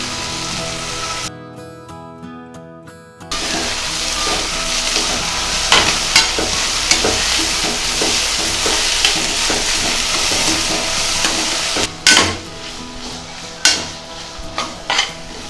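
Chopped tomato and onion stirred and sautéing in a pan for moong dal khichdi, a steady sizzle with frequent scraping stirs and clinks throughout, close and fairly loud, with no talking.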